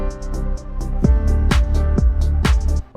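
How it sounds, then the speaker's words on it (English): Layered claps acting as the snare in the second verse of a beat hit in a steady rhythm, sharp and loud, over a booming bass line and a melodic backing. "Well, now we have claps in the second verse."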